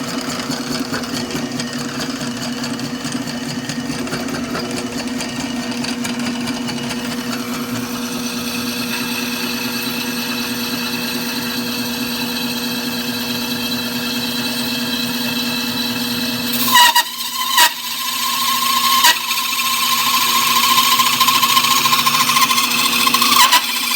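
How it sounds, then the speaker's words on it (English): A hole saw cuts into suspension parts with a loud, steady droning whine and chatter, its pitch shifting abruptly partway through as the cut changes, continuous and close throughout. "So I got these cut with the hole saw."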